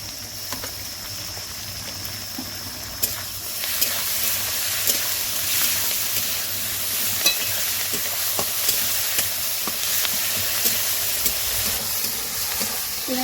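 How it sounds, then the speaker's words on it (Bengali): Onion with ginger and garlic paste frying in a pot for a chicken and potato curry, giving a steady, close, continuous sizzle with faint stirring scrapes throughout and no talking. "পেঁয়াজ আদা রসুন ভালো করে ভেজে নিয়েছি লাল লাল করে।"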